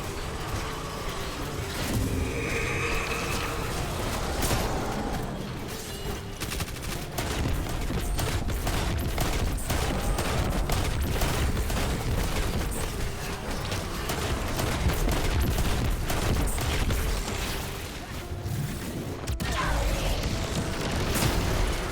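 Rapid weapon fire fills a Destiny 2 firefight, with dense bursts of gunshots and booming impacts layered over constant game noise and music. A voice talks over parts of it.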